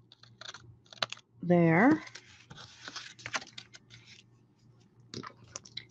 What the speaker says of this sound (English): I'm going to snip it